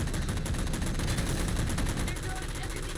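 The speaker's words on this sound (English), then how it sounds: "Or at least the sound of gunfire." Continuous gunfire from the video game Halo 4, rapid dense shots blending into a constant loud barrage with heavy low rumble throughout.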